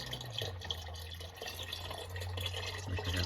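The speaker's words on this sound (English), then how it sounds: "And then I can pour this carefully back in." Motor oil from an oil change on a 2015 Yukon Denali XL 6.2L poured carefully back through a makeshift funnel, a steady close trickle and dribble with a low hum underneath.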